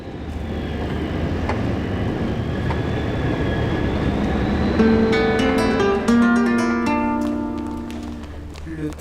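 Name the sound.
train departing from a station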